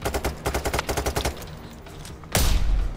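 Gunfire in the video game Payday 3 during a rooftop fight with snipers, heard as a rapid run of loud, evenly spaced shots followed by a heavy booming blast.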